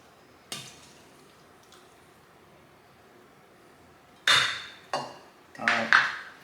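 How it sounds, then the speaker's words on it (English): Utensil scraping and clinking against a pan while bulgogi cooks, a few short bright bursts of stirring after a quiet stretch, close and fairly loud. "go ahead and stir that up"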